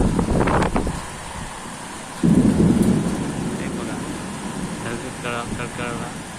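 Heavy rain with thunder during a strong windy storm: a steady wash of rain and wind, with a deep rolling thunder rumble in the middle and a voice heard briefly at the start and near the end.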